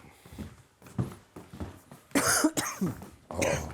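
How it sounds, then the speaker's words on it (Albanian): A person coughing in a home, several harsh bursts in uneven clusters close up, the last ones louder, with breathy pauses between them. "Kollitis tash."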